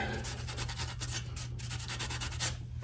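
Close, steady rubbing and scratching of a Scotch-Brite pad scrubbing the valves in the rocker box area of a 2009 Harley-Davidson Electra Glide engine, a continuous abrasive swish with small rhythmic pulses over a low background hum.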